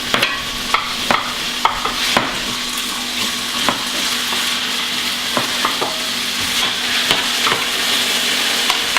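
Beef marinated with ginger browning in a hot pan, a steady close sizzle and crackle with occasional sharp clinks and scrapes of stirring, no talking.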